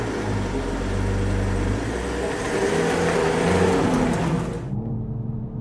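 A 2021 BMW M440i drives along, its engine note steady and loud with a rising whir as it accelerates, then the sound cuts off abruptly near the end; no one speaks.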